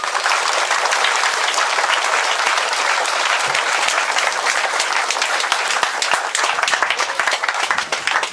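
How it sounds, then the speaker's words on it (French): Outdoor crowd applause at a monument plaque unveiling in French Guiana, sustained and dense from start to finish, loud and even with no voices standing out. "Sous vos applaudissements s'il vous plaît"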